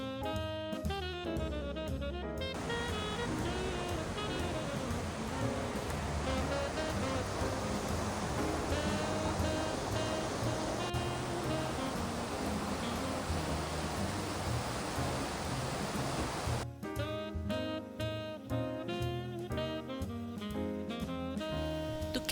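Broadband rushing roar of a waterfall cascading near Banff in the Canadian Rockies, steady and dense, partly mixed with background music at the start and end.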